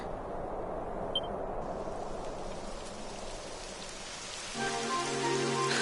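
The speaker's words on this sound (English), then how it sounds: "It would have to go and start raining, wouldn't it?" Steady rainfall in the video game Dragon Quest XI, a dense continuous patter that holds even throughout and swells slightly louder near the end, where soft sustained musical tones enter beneath it.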